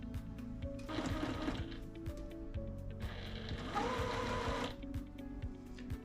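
Sewing machine stitching quilt pieces, running in two sustained bursts of rapid, even stitching with a short pause between, close and fairly loud.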